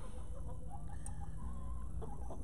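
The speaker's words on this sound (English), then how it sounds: "Chickens right here." Hens clucking softly in a farmyard, scattered short calls over a steady background hum, moderately close.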